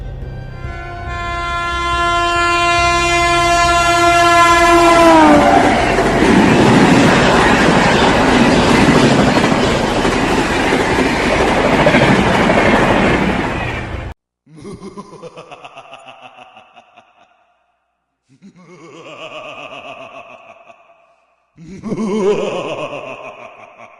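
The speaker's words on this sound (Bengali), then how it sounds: "শুধু কানের কাছে আবার একটা ট্রেনের শব্দ পেল" A train sound effect from a Bengali horror audio story: a long horn blares, then a loud roaring rumble of the train rushing past fills about fourteen seconds, followed by several breathy gasping vocal sounds.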